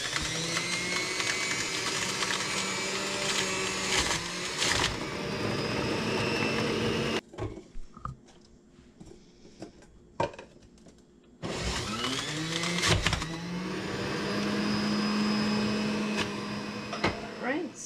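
Celery being pushed through a juicer in two batches, a loud steady motor whine with grinding that cuts out briefly midway, then starts again for the second batch.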